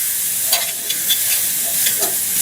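Loose curry powder parching in hot oil for curried goat, a loud, steady sizzle close up with soft scraping stirs recurring every half second or so, and no voices.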